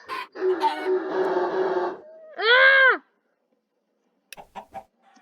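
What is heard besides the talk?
chicken clucking in a party video game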